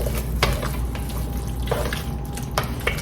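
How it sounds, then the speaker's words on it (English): Salt, black pepper and red pepper flakes being stirred together in a home kitchen while making sloppy joes: a soft, continuous scraping and rustling with a few brief clinks, heard alone at close range. "Mix them around thoroughly."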